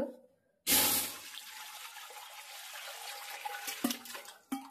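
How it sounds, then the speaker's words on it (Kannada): Running water pours steadily into a large cooking pot, about two litres for making rice papad, starting abruptly and flowing continuously close by with small splashy fluctuations. "ಒಂದು ದೊಡ್ಡ ಪಾತ್ರೆ ಇಟ್ಕೊಂಡ್ಬಿಟ್ಟು 2 ಲೀಟರ್ ಅಷ್ಟು ನೀರು ಹಾಕೊಳ್ಳಿ"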